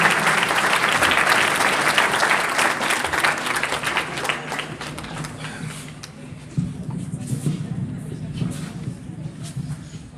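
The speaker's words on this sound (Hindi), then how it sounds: "आप अपनी तालियों की गड़गड़ाहट के साथ स्वागत करें आदरणीय बंटी जी" An audience at a Republic Day function claps to welcome a guest, loud and dense at first, then thinning into scattered claps while a voice and a low hum continue underneath.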